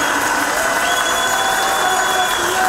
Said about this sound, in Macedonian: Ве молам еден аплауз!